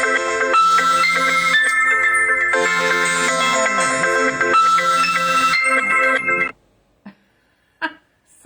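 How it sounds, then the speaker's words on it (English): A mobile phone rings with an incoming call during a live stream, its bright electronic ringtone melody playing loudly and steadily for about six seconds, then cutting off, followed by a couple of brief faint clicks. "I had my phone on Do Not Disturb, and still I get a telephone call."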